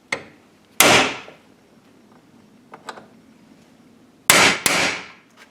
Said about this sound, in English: Now I'm going to make a hole right here, punch a hole